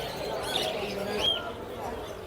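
Small caged birds chirp and tweet faintly at the Mirpur-1 bird market in Dhaka, with short bright calls rising over a steady hum of crowd and people talking.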